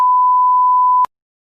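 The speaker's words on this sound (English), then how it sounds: "you can hear a long beep indicating a boot-up error" A single steady electronic beep at one constant pitch, a computer boot-up error beep, lasts about a second, then cuts off abruptly into silence.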